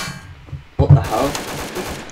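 Gunshots in Garry's Mod DarkRP, a quiet burst early on followed by a loud close blast and a rapid string of shots, with a voice talking underneath.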